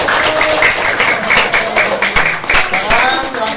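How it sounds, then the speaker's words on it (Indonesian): Students in a classroom teaching-practice lesson applaud in a dense burst of clapping that runs throughout, loud and close, with voices mixed in. "tepuk tangan buat kalian semuanya"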